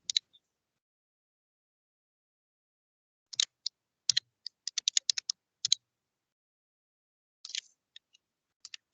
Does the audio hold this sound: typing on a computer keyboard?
yes